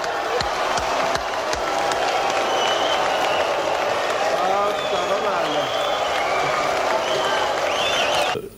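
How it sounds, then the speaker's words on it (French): Whistles and applause from the audience in the grand hall of the Palais des Festivals at the 1987 Cannes Palme d'Or announcement, a steady roar of clapping and crowd noise with whistling over it throughout. "c'est un tonnerre de sifflets, mais aussi d'applaudissements qui éclatent dans la grande salle du Palais des Festivals"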